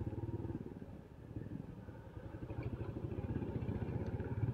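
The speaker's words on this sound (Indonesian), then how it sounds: "punya Yamaha Scorpio tahun 2004 itu. Memang suaranya lebih halus ya." A 2004 Yamaha Scorpio motorcycle with a worn clutch rubber idles and revs gently, a faint, steady, even putter that swells slightly toward the end.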